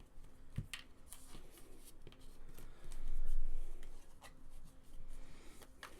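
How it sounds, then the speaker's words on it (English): A deck of cards being shuffled at a tabletop session of the board game Pandemic Legacy Season 2: soft riffling and rubbing card sounds, fairly faint and continuous, swelling briefly in the middle, with quiet room noise around. "I'm very focused on my shuffling."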